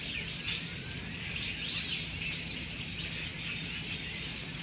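A flock of starlings chirping agitatedly at dusk, a dense, continuous wash of high, overlapping chirps and squeaks with steady loudness throughout and no talking.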